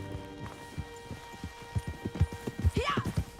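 Galloping horse hooves pound in a steady, quickening clip-clop rhythm while riding in Red Dead Redemption II, close and distinct, with a brief whinny-like cry rising midway.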